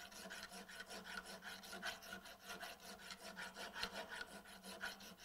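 Hand file rasping rhythmically across a clamped metal workpiece to remove mill scale, with steady back-and-forth strokes close up and no talking.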